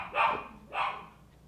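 A dog gives two sharp barks close by, spaced less than a second apart, with quiet in between.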